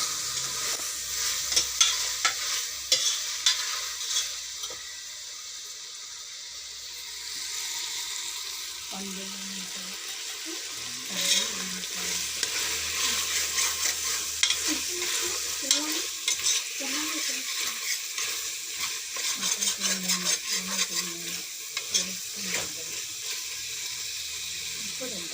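Tomatoes fry in a pan for a peas and potato kurma, a constant close sizzle broken by repeated scraping stirs, with a running-water stretch and occasional brief voice sounds underneath.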